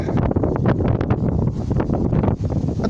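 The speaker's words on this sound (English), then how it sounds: "some power in that wind" Strong wind gusting across a microphone outdoors on a blustery walk, a loud, continuous low rumble and buffeting that fills the clip.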